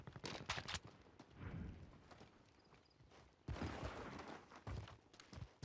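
Gunfire in the video game Warzone crackles in dense bursts of rapid shots and scattered single cracks, loud and continuous throughout with no break.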